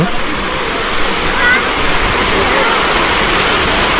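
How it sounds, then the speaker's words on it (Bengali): Water runs down a stepped waterfall at Lonavala, where the flow is low outside the monsoon. A steady, broadband rush fills the whole stretch, loud and close, with no clear voices above it. "দেখুন এখানে সিঁড়ি করা রয়েছে এবং এই সিঁড়ি ধরে ধরে জল নেমে আসছে।"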